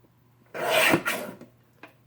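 Paper for a scrapbook layout being trimmed, a short close scraping rasp from a paper trimmer blade sliding through in one stroke with a brief second pass, followed by a faint tap.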